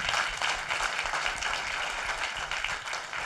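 A crowd at a bourbon tasting applauds its sponsor, J. Earl and Sons; dense, sustained clapping from many hands that stays steady and fairly loud throughout, with no speech.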